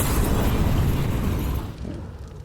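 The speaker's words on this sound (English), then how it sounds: "A little nade for Nico" A grenade explodes in Counter-Strike during a pro match, a loud, close, broadband blast that holds for over a second and then dies away.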